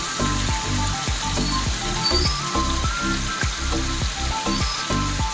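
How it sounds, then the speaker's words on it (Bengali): Potatoes fry in hot oil with salt, dried red chilli, bay leaf and whole cumin for mochar ghanta, giving a steady close sizzle broken by repeated rhythmic scraping or stirring clatters, with no talking. "তারপর আমি হলুদ দিয়ে এটাকে ভালো করে লাল করে ভাজতে থাকবো।"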